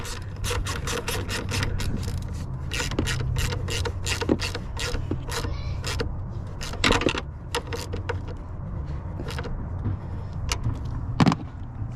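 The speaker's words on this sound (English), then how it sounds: "We just got to tighten our negative cable too as well" Tightening the negative battery cable clamp on a 2019 Chevy Silverado 1500 with a ratchet, giving rapid metallic clicking and ratcheting bursts, close and fairly loud, with a few pauses and a sharp clack near the end.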